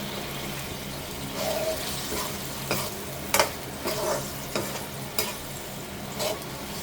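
A tengra fish curry with taro stolons, ginger, red chilli, cumin and coriander powder is stirred and sautéed in a pan, giving a steady close sizzle broken by several scraping strokes of a spoon.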